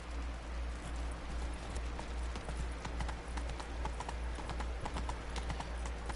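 Roach, a horse in The Witcher: Blood and Wine on PS4, clip-clops along in a steady, even hoof rhythm over a continuous low rumble of game background noise.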